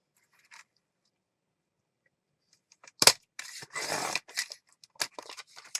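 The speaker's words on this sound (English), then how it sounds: "then I can trim this down to 4 inches" Paper being trimmed for journal pages: after near silence comes a sharp snip, then a run of crisp cutting and rustling sounds, close and quiet.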